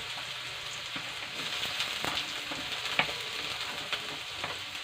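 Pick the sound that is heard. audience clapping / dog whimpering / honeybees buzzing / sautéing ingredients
sautéing ingredients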